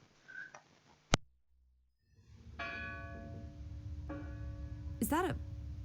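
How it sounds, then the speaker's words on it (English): A church bell rings in the video game Draugen, a single clear metallic strike followed by a sustained, ringing tone over a low ambient background, with another bright chime later and a voice talking briefly. "The church bell."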